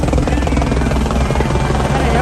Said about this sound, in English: Got a helicopter right there this morning.